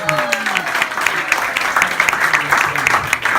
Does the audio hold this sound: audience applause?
yes